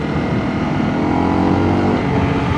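Single-cylinder Honda CRF 250 Rally motorcycle engine on a road test ride, a loud, close, steady drone with slight rises in pitch as it pulls, no talking.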